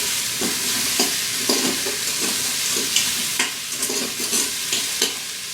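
Vegetables and meat being stirred in an Instant Pot, a steady sizzle with regular scraping strokes of a spoon against the pot, close and fairly loud, no voices.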